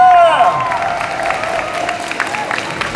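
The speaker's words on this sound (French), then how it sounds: "on fait une ovation s'il vous plaît pour Monsieur McIntyre." An audience at a convention panel at Paris Manga breaks into applause and cheering, a loud mixed crowd roar with whoops and clapping filling the room.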